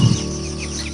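One-month-old chickens cluck softly right after being fed, a short close burst at the start and then low continuous farmyard murmur with no talk.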